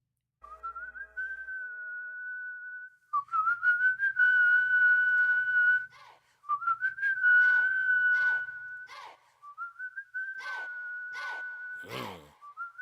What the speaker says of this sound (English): It does have an iconic start, you know, with the whistle